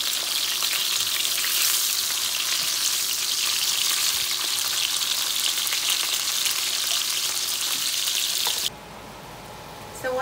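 Fish sizzles and crackles in olive oil in a pan, a loud, steady frying hiss that runs unbroken for several seconds before cutting off abruptly near the end.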